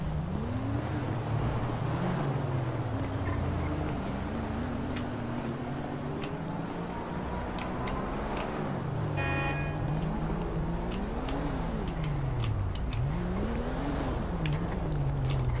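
A car engine in a GTA roleplay video game revs continuously, its pitch rising and falling in repeated swells, steady and fairly close with no talking over it.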